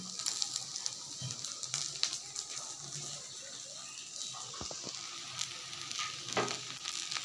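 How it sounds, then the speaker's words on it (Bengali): Okra (bhindi) frying in a pan in a home kitchen makes a soft, fairly faint sizzle with occasional light clicks and stirring knocks, and no talking is heard. "আজকে রান্না হচ্ছে ভেন্ডি ভাজা"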